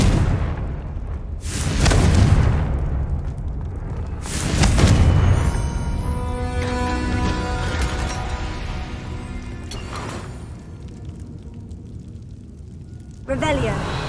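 Confringo fire-blast spells burst in Hogwarts Legacy: two loud whooshing booms early on, then a lingering rumble with tonal game sounds, and a short burst near the end, with a voice present.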